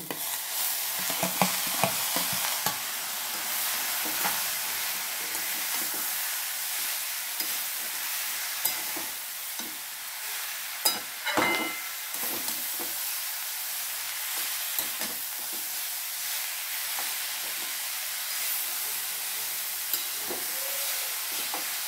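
Radish, green peas and tomato added to a pan and stirred as they fry for mulo dal, with a steady sizzle under repeated spatula scrapes and occasional louder knocks, no voices.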